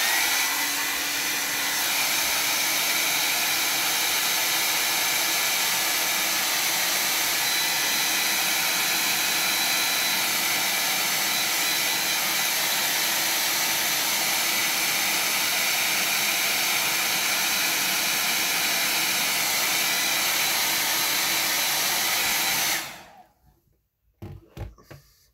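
A hair dryer blows over a watercolor landscape painting, a loud, steady, close rushing hiss that runs for about twenty-three seconds before cutting off abruptly, leaving a short quiet stretch with faint handling sounds.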